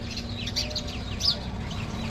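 Sparrows give a few faint, scattered chirps over a steady low background hum.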